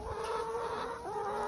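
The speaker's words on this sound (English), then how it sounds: "Free-range chickens." Free-range chickens clucking nearby, a brief burst of soft, rising and falling hen calls over a low background hum, faint and without talk.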